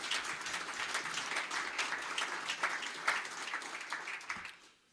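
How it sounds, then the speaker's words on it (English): Applause from a crowd at a Buffalo mayoral announcement, dense steady clapping that carries on for several seconds and then tapers off toward the end. "And you can clap on that again."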